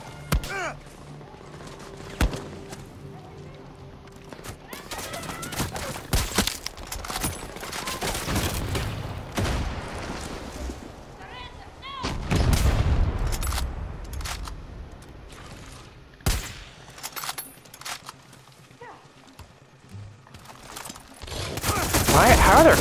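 Gunfire in Far Cry 6 comes as loud, rapid volleys and sharp single cracks, with several heavy bursts over a steady combat backdrop and a player talking intermittently.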